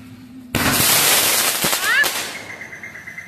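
Diwali firecrackers burst with a sudden loud crackling blast that fills the air, followed by sharp pops and a whistling crackle fading into a lingering ring.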